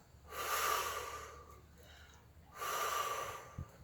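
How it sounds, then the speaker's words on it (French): Two forceful breaths blown out close to the mic during an upper-body workout, each lasting about a second with a pause between, no talking. "soufflez en montant"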